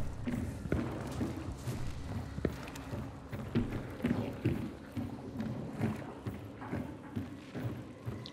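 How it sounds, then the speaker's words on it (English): Horse hooves clip-clop in the video game Hunt: Showdown, a soft, moderately distant patter of thuds repeating irregularly over a low ambient background, with no one speaking. "I heard a horse."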